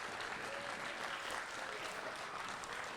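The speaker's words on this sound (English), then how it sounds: "So give them a huge round of applause" A school audience at a primary school event in Bampton, Devon gives a continuous round of applause, steady and fairly soft, heard from a moderate distance.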